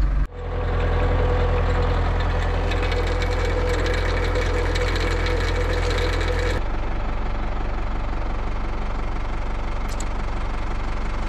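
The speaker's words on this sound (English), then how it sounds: "It's pretty big oak tree, it's very heavy, so not sure what this big old winch can do, but we will give it a try." A big old winch, its engine idling and knocking while straining to drag a very heavy oak tree, gives a steady loud mechanical drone that drops in tone partway through, alone without voices.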